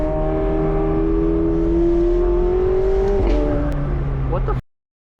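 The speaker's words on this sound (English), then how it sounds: "car does pop a lot" McLaren 750S engine revving under load with a steady rising drone, then crackling exhaust pops near the end before it cuts to silence; loud and close, with no talk over it.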